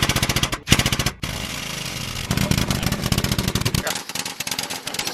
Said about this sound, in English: that's a bottle jack that runs off the air compressor